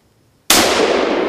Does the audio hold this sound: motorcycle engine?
no